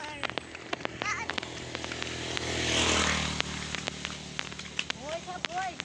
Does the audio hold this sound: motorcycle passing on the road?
yes